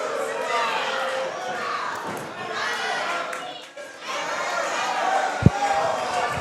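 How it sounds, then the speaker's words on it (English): A wrestling crowd at a No Holds Barred championship match roars unhappily after a pinfall count, a loud sustained swell of shouting that dips briefly and then rises again, with one sharp thud near the end. "The crowd is unhappy with that count."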